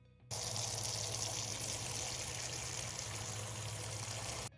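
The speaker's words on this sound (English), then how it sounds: "Submerge them in a bowl of water to remove any dirt." Water splashes and gushes steadily while mushrooms are washed by submerging them in a bowl, making a continuous, fairly loud rush that starts abruptly and cuts off at the end, with no talking.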